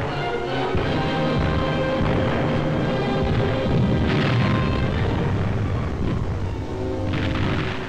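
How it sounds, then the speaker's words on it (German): Heavy artillery shelling on a WWII battlefield, dense rumbling booms and blasts rolling continuously, loud and close, with a few sharper impacts toward the end. "Erneuter schwerer Artilleriebeschuss zwingt die Fallschirmjäger, volle Deckung zu nehmen."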